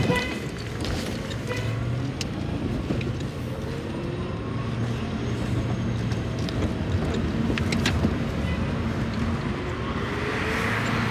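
A car drives along a road toward an MOT test station, giving a steady, moderately loud road and engine rumble from inside the vehicle that runs without a break.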